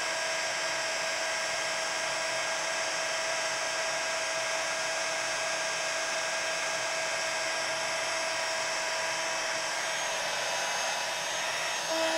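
A heat tool melts thick, heavy embossing powder on an acrylic-painted art journal page, giving a loud, steady blower roar with a high whine that runs unbroken for the whole stretch, close by and with no talking.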